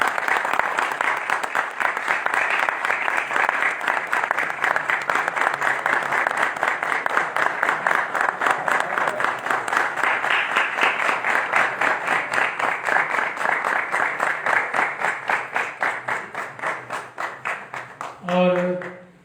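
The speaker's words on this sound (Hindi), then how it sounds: "तालियां हैं।" Sustained audience applause at a live event welcoming a tabla performer, dense steady clapping running for most of the clip before tapering off, with a brief voice at the very end.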